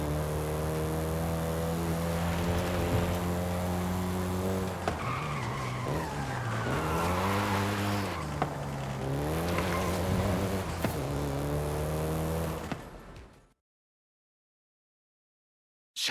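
A Volkswagen Golf GTI in Forza Horizon drives with a droning engine note that rises and falls in pitch through gear changes, tires squealing over it midway, before cutting abruptly to silence near the end.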